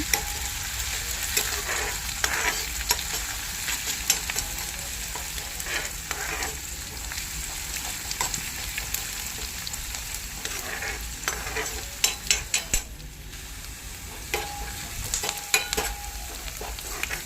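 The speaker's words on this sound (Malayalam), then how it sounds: "ഇനി ഇതിലേക്ക് നമ്മൾ അരിഞ്ഞ് വെച്ചിട്ടുള്ള ഉള്ളിയും കറിവേപ്പിലും ഇട്ട് കൊടുക്കുക. നന്നായി മൂപ്പിക്കുക." Chopped onions and curry leaves sizzle steadily in a pan for a mackerel chilli curry, with repeated scraping stirs and a few sharp clinks of a utensil against the pan; no one speaks.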